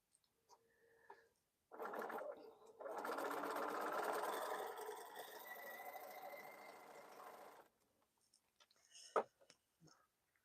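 A sewing machine stitches in two bursts, a short run followed by a longer steady whir lasting several seconds, with light clicks and handling noises before and after during quilting work on bowl cozies.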